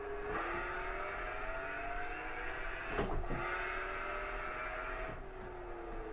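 Engine of a car in Gran Turismo 5 heard from outside, a steady close drone with rising gear-like harmonics, broken by two sharp shifts or revs, no talk.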